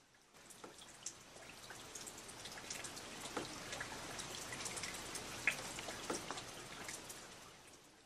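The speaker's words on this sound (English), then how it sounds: "it begins to rain." Rain falling near a mill by a small sand ravine in rural Normandy, a soft steady patter with scattered sharper drops, faint and continuous throughout with no voices.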